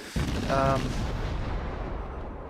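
A single deep warship gun salvo in World of Warships, a heavy boom that opens sharply and then rolls into a long, slowly fading rumble, loud and close.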